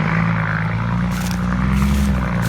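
Steady droning engine of a Hino 360 Daewoo truck with a sustained turbo whine, loud and close, running continuously without speech.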